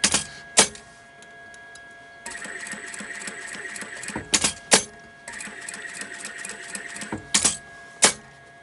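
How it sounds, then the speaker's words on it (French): A sewing machine stitches a safety seam on a quilted double-zip pen pouch, whirring in bursts broken by sharp clicks and knocks between runs, close and without talk. "Et vous allez faire une petite couture, bah écoutez, de sécurité."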